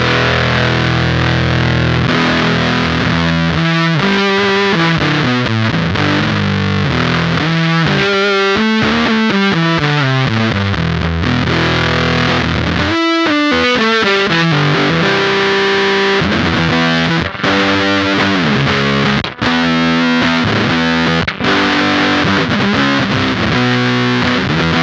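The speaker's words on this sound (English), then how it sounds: "And there you can kind of hear that the normal fuzz mode" An electric guitar plays through a Beetronics Octahive V2 fuzz pedal turned to maximum in normal fuzz mode, giving loud, thick, saturated notes and sliding runs that fill the stretch with only brief gaps.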